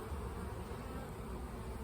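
Honeybees buzz on a hive frame during a hive inspection, a faint, steady, dense hum that holds throughout with no talk.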